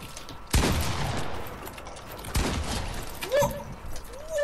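Gunfire in a video game box fight: two loud bursts of shots about two seconds apart, then sharper single cracks and a brief electronic tone near the end, with no voices.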